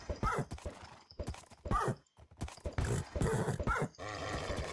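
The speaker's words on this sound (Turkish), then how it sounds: "Atlar ama güzel hayvanlar ya" Minecraft horses heard in game: repeated clip-clop hoofbeats mixed with several whinnies and snorting grunts, close and fairly loud, in bursts with short gaps.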